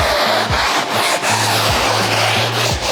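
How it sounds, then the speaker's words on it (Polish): A drill-mounted brush scrubs sofa upholstery with a steady, loud rubbing rasp, and the motor hum rises and drops in repeated strokes throughout. "szorujemy po tapicerce"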